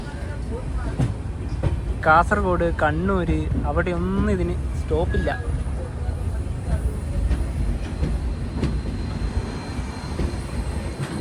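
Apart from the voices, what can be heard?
Duranto Express train departing Mangaluru Junction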